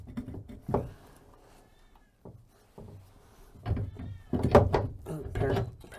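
An excited house cat meows several times at close range, mixed with a person talking and some handling noises.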